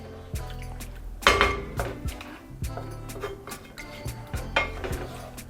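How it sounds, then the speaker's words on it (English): Chicken tagine being stirred in a pot: repeated clinks and scrapes of a utensil against the pot at an irregular rhythm, with faint liquid sloshing, close and fairly quiet. "Give that a mix again."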